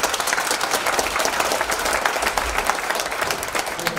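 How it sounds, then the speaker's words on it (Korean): An audience at a concert applauds steadily, a dense and even wash of many hands clapping for about four seconds. "우리 다시 한번 박수 한번 하겠습니다."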